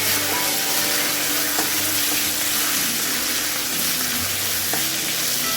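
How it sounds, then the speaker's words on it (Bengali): Ginger-cumin paste fries with five-spice, dried chilli and bay leaf in hot oil, a loud steady sizzle with occasional stirring clinks throughout. "সেই আদা আর জিরেটাকে আমি একটু ভালো করে ভেজে নেব ফোড়নের সাথেই।"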